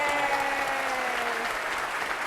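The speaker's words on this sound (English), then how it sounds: "can I have a round of applause for them?" At a zoo's holiday light show, an audience claps for the staff in a dense, sustained round of applause that slowly fades, with a few tonal notes drifting over it.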